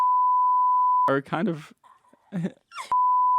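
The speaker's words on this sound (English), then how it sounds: "we'll put like a long beep over that part" A steady sine-tone censor beep plays alone, cuts out while a person talks briefly, then resumes as a continuous tone.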